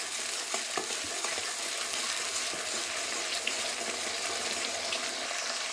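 Ginger paste thinned with water sizzles in a hot pan while being stirred, a close, even crackle and hiss broken by scraping strokes and small pops.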